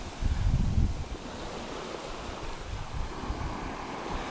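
Sea surf washes onto a narrow beach at Lara, Antalya, Turkey, a continuous rushing wash with a stronger surge early on, mixed with wind buffeting the microphone.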